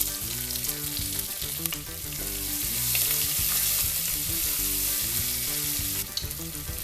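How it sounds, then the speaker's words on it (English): Thin-sliced onion frying in oil in a pan for methi and matar pulao, giving a steady, loud, continuous sizzle throughout with a low tonal hum running underneath. "I will wait until the onions are fried well and become translucent."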